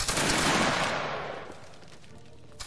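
A volley of black powder muskets fired together by grenadier reenactors at training, one loud blast that rolls into a long fading echo, ending with a faint clatter.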